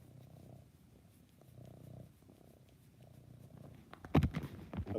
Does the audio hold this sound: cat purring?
yes